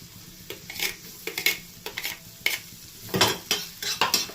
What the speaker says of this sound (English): now we'll add the garlic, ginger and green chilies one by one.